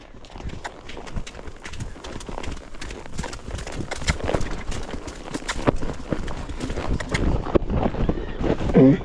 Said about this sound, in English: Go ahead and keep trotting